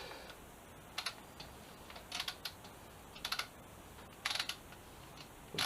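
Torque wrench tightening small radiator bolts on a 2007 Suzuki GSX-R 750, quiet clicking ratchet bursts in short clusters with pauses between, faint and close in a quiet workshop.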